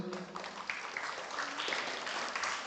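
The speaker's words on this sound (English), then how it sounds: "A round of applause for him" A school quiz event audience gives a brief, even round of applause for the Nevis Credit Union general manager, moderately distant and lasting only a few seconds.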